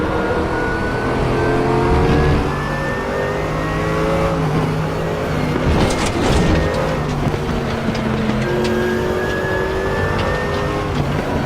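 A Mercedes AMG GT3 race car in RaceRoom at Suzuka howls loud and continuous, its engine note climbing through the gears with shifts and rising pitch sweeps, no talk over it.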